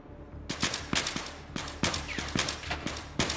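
Rapid gunfire crackles in Battlefield 3, a series of loud, sharp shots in quick irregular bursts with no talking over them.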